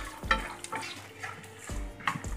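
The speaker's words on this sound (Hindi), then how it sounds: "कच्ची मूंगफली को थोड़ा वक्त लगता है फ्राई होने में, तो इसलिए हम मूंगफली को पहले फ्राई करेंगे" Raw peanuts frying in oil in a pan, a faint close sizzle broken by a few scraping stirs and light clinks.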